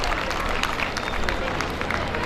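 Sustained crowd clapping at a school annual day celebration for student award winners, a loud, even wash of applause with babble and voices blended in throughout.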